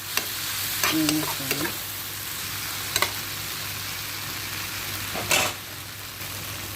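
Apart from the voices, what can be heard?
onion, tomato and green chili frying in a pan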